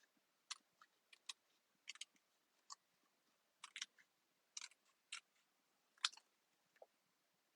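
Scissors snip around a stamped cactus image cut from cardstock for a handmade card, a quiet series of short, crisp snips in irregular bursts with small pauses.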